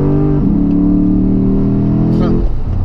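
A Lexus GS F with a 5.0-litre V8 pulls hard at full throttle, the engine note rising steadily and loudly from inside the car before cutting off sharply, while a voice speaks over it.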